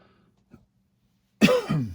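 A single harsh, close cough after a short quiet pause, with a faint tap just before.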